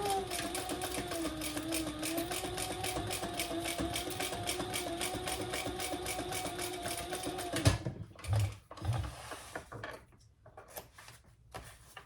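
A sewing machine stitches a bag lining in one continuous, fast, even whirring run, then stops, followed by a few soft handling clunks and rustles of fabric.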